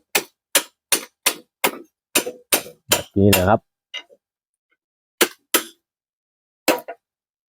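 Sharp, evenly spaced wooden knocks ring out as a sharpened stake for a homemade rat trap is hammered into soil, about a dozen strikes with a pause midway, while someone speaks briefly between blows.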